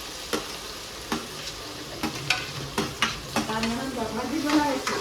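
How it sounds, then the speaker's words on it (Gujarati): Chopped onion tempering in hot oil, a soft continuous sizzle punctuated by regular clinks and scrapes of a spoon stirring in the pan, with a voice briefly audible near the end. "વાહ ભાઈ વાહ, કાંદાનો વઘાર"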